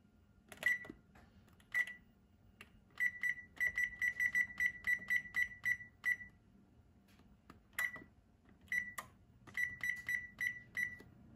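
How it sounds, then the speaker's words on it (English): A kitchen timer sounds while sourdough bread bakes in the oven, giving repeated bursts of quick high beeps in clustered runs with short pauses between them, clear and alone against a quiet kitchen. "my timer just went off"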